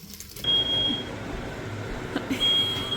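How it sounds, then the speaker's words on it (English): A smoke detector set off by cooking bacon, sounding in short shrill electronic beeps that come in two bursts with a pause between them, close and loud over a low kitchen hum. "cooking bacon always makes that smoke detector go off"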